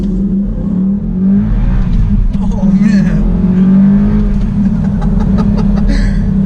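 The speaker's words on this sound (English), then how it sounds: "this is the first V8 car we have in the show." An Audi R8 V8 engine revs and pulls hard through acceleration, a steady loud low roar beneath a man's brief exclamation.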